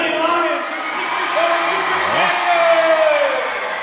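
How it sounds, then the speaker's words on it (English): A home crowd applauds and cheers for the Lewis County Lions at a Kentucky high school boys district championship basketball game, a steady roar of clapping under an announcer's voice. "one more round of applause for the Lewis County Lions"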